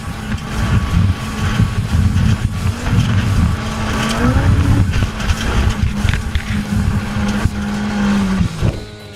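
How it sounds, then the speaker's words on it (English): Rally car driven hard over a very rough road, engine loud and close throughout with shifting pitch as it climbs and drops, rattling and crunching from the surface, steady and unbroken for the whole stretch. "this is what a professional rally driver race looks like in first person"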